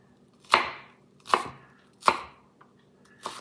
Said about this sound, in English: And there we have a diced onion in a matter of seconds